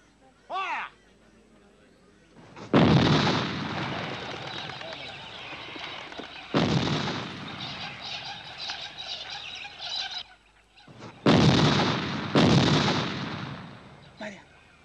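Musket or cannon volleys fire in a period TV drama: several loud, booming bursts with long rumbling tails, spaced a few seconds apart, with voices between them.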